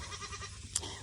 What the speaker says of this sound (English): He's our billy goat.